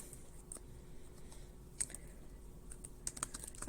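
Soft, quick typing on a computer keyboard, scattered light key clicks at an uneven pace, close but quiet, with no talking.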